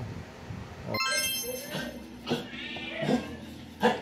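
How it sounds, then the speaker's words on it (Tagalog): Kittens meow at feeding time, giving a few high, thin cries among soft rustling and handling sounds. "feeding time muna kay mga Mingming."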